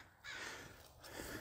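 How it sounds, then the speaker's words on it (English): Crows caw in the background of a winter vegetable garden, a faint, distant and continuous chorus with no one speaking. "You can hear all the crows in the background"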